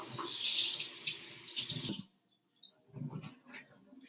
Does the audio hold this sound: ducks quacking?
no